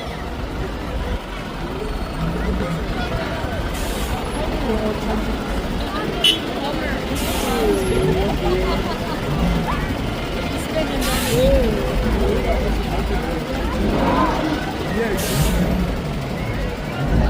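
Recovery trucks rumble past during a St Patrick's Day parade in Drogheda, Ireland, with steady engine drone, occasional air-brake hisses and someone talking over the noise.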